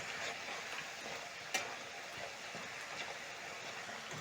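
Green banana wedges fry in oil in a pan, giving a steady close sizzle and crackle throughout with one sharp tap partway through, no voices.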